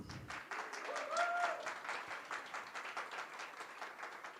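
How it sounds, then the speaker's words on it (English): Applause from an audience at a health equity startup showcase, steady clapping from many hands throughout, fairly distant and moderate in level, with no talk over it. "I want to give a warm round of applause in advance for these amazing entrepreneurs"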